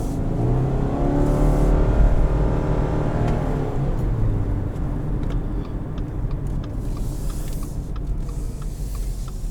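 A 2021 Subaru Forester Premium engine pulls hard from inside the cabin, its note rising steadily as the car accelerates, then settling into a loud, even drone with road noise.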